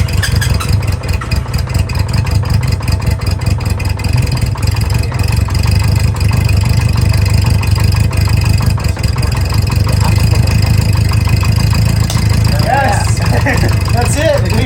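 A 1973 Honda CB350 Four motorcycle engine runs steadily up close, a loud even idle with a slight rise in revs partway through, while people talk faintly over it.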